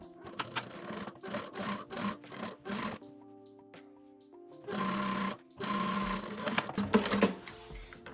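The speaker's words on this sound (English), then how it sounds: "we're going to sew all the way from the bottom of this edge to the very top." A sewing machine stitches the back seam of women's shorts with right sides together, running in several bursts of rapid mechanical whirring separated by short pauses and a quieter lull in the middle.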